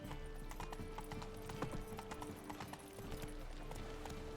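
Roach, the horse in The Witcher 3 next-gen edition, at a gallop, hooves drumming in a quick steady rhythm over a continuous low game soundscape, close and moderately loud.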